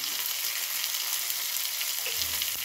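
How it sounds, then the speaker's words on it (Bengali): A half tomato frying in a pan gives a steady, even sizzle that runs throughout at moderate loudness, with a faint low thump near the end and no voices. "টমেটোটাকে একটু ভালো করে ভেজে নেওয়া হবে"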